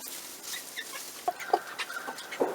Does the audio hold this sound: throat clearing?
no